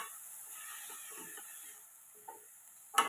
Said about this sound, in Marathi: तेल गरम झाल्यानंतर ही जी आपण बारीक चिरून जी घेतलेली मेथी आहे ही मेथी या तेलावर टाकून 1-2 मिनिटं आपण परतून घेणार आहोत।